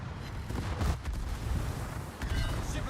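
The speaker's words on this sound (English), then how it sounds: "American secondaries are not as good as the German secondaries" Secondary guns on an American warship in World of Warships fire in a steady, dense rumble of booming shots, thick with low-end weight and continuous across the moment, with no voice present.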